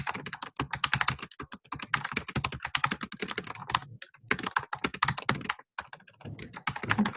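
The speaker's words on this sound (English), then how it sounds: "I'm typing it out." Steady, close typing on a computer keyboard, a dense run of quick clicky keystrokes with a few brief pauses and no talking.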